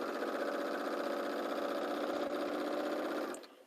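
A sewing machine stitches knit fabric with a steady, close, even mechanical whir for about three seconds, then winds down and stops.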